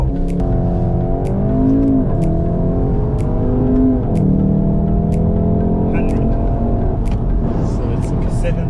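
A 2020 VW Golf 7 R pulls away hard from a standing launch, its engine note climbing through rising revs with brief dips at gear changes, loud and close from inside the car, with a voice speaking over it.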